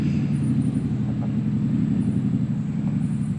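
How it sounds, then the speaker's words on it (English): Loud, unmuffled vehicles pass along a road in Alabama, giving a dense, continuous engine roar and rumble that stays close and steady throughout, with no voices. "Let's wait till these vehicles get past, because they're making a lot of noise."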